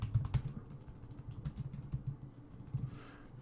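Quick, uneven keystrokes tapped on a computer keyboard while a name is entered, a run of close, soft clicks with no talking.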